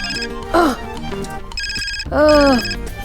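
A telephone rings at night in a home, with electronic ring tones sounding in two bursts. Voices speak loudly over and between the rings.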